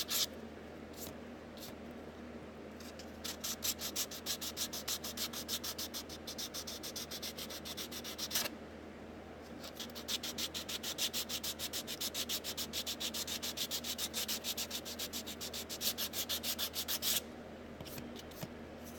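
Body filler on a hard body repair is sanded with a wooden block, producing close, rhythmic rasping strokes in quick bursts with a brief pause midway and no talking.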